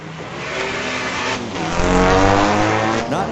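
Street-legal drag racing at Mission Raceway Park, a Volkswagen against a 2023 BMW: loud, steady engine roar that swells and builds over a few seconds as the cars launch, with a brief tire-squeal chirp near the end.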